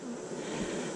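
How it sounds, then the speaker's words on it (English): Agitated bees buzz around an open hive during a brood and queen inspection, a steady close-up drone that stays fairly faint and unbroken for a brief moment. "Let's get just off the whole bunch of bees. So why they're mad."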